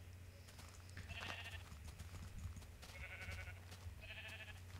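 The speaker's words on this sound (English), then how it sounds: "That right there was a sheep eating, but he wasn't sheared, so he didn't regrow any wool." A sheep in Minecraft bleats three times in quick, wavering calls, faint and spaced a second or so apart over a low steady background hum.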